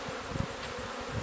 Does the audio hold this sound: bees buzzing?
yes